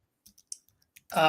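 A handful of light, sparse key clicks from a computer keyboard tap out close by in the quiet, then a voice begins speaking.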